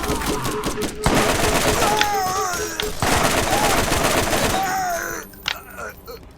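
Gunfire in the video game Borderlands rattles in rapid bursts through most of the stretch, loud and dense, with a voice talking over it and a quieter tail near the end.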